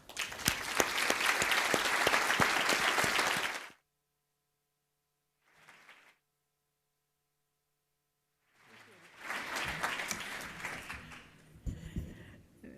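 Audience applause welcoming Houston Mayor Annise Parker at the 2016 Public Media Summit, a dense burst of clapping for about four seconds, then a brief faint patter, then applause swelling again.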